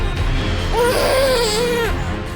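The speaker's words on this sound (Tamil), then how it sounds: "பம்பா நதிக்கரைக்கு வந்தபோது ஒரு பச்சிளம் குழந்தையோட அழுகை சத்தம் கேட்டுச்சு" Newborn baby crying by a riverbank, a single wavering wail rising and falling for about a second, loud and close over a steady background hum.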